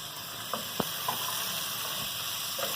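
Potato, cabbage and peas frying in oil for cabbage curry give a soft, steady sizzle with a few faint clinks and stirring taps. The sound is quiet and close, with no talk.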